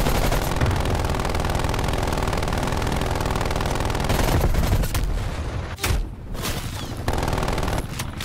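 Hostile sentry turret in Call of Duty: Black Ops Cold War firing sustained, loud automatic bursts that roll on almost continuously, with a brief break near the end before the gunfire resumes.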